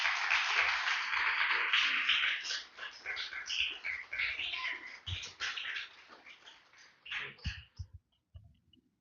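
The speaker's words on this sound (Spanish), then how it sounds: "Denle un fuerte aplauso mientras el hermano pasa." Congregation at a church service applauding loudly, a dense wash of clapping that fades after several seconds into scattered claps and murmuring voices.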